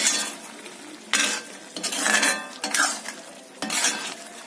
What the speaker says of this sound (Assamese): এতিয়া ভালকৈ লৰাব লাগিব যাতে গোটেই খুৰমাখিনি চেনিৰ লগত মিহলি হৈ যায়